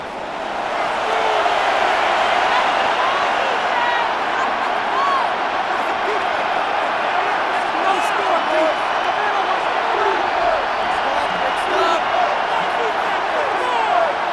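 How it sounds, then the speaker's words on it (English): A large stadium crowd in the video game Madden NFL 26 roars steadily throughout an American football game, a constant dense wall of noise with no breaks. "Crowd noise rises."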